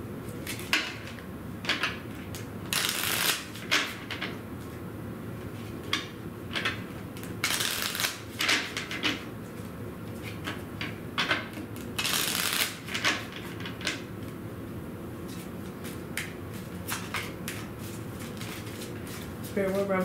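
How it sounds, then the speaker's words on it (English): A deck of tarot cards is shuffled close up. Repeated riffling bursts and soft card slaps come at an irregular rhythm, with a person's voice talking softly in between. "Let's get a Rebel deck card and we'll close out."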